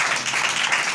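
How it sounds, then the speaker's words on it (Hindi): A church congregation applauds, a dense, steady wash of many hands clapping at once, sustained throughout with no individual claps standing out. "आइए सब यीशु के जलाल के लिए जोरदार तालियां बजाएंगे"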